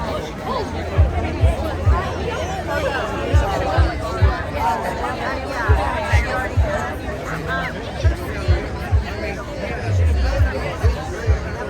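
A crowd waiting around for a show at Auburn, loud close chatter and babble of many voices with scattered thumps and knocks throughout, steady and busy.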